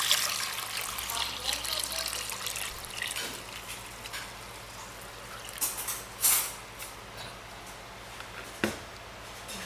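Warm water poured from a container into a glass bowl, a soft steady trickle and splash running close by for several seconds, with a few sharper splashes and clinks near the end.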